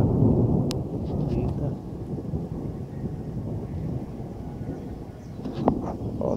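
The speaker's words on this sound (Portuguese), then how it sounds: "Tá chovendo aí, quis gravar isso" Steady rain pours down during a thunderstorm, with a dense continuous hiss and patter, a low rumble of thunder beneath, and a few faint sharp clicks from drops striking nearby surfaces.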